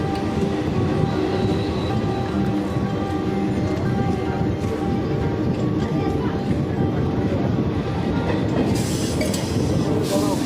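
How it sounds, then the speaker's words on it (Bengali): A train pulls into Kanchrapara railway station, with a loud, continuous rumble of rolling wheels and carriages, heard up close from on board and with faint voices mixed in. "কাঁচরাপাড়া রেলওয়ে স্টেশনে আমার ট্রেনটা প্রবেশ করলো।"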